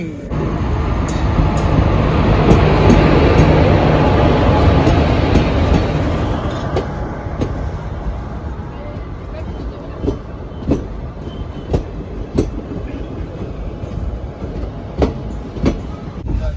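A passenger train rumbles steadily, loud at first and then easing to a lower drone, with periodic wheel clicks and rail knocks punctuating the run.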